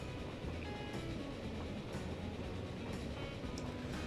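A train in the Transport Fever video game pulls into a Detroit station, a steady rolling rumble with faint regular clicks about once a second, continuous and unbroken, with no voices.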